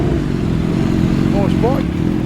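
A motorcycle engine rumbles steadily nearby at a car meet, a loud low idle-like drone filling the clip, with brief voices over it.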